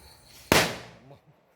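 A single sharp firecracker bang cracks out loudly, then its echo fades away, with faint chirps before and after.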